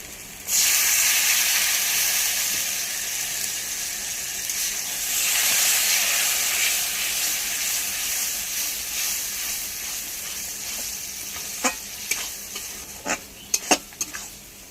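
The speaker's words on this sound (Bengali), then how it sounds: "উচ্ছেটা ভাজার জন্য একটু জল দিয়ে দেবো" Bitter gourd frying in a pan after a little water is added, a loud sizzling hiss that surges and gradually settles, with a few sharp utensil clinks near the end.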